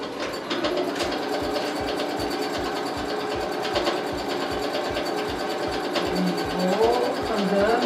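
Sewing machine doing free-motion quilting, a fast steady needle clatter in a rapid even rhythm throughout, close and continuous, with a voice speaking faintly beneath it.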